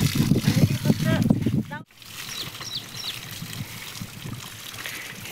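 Water splashes and trickles while cattle are washed outdoors on a sunny day. The splashing runs under loud, close talking at first, then continues more quietly with a few faint chirps in the background.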